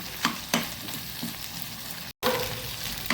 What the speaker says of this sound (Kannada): ಅಷ್ಟು ತನಕ ಇದರಲ್ಲೇ ನಾವು ಫ್ರೈ ಮಾಡ್ಕೊಳ್ಳೋಣ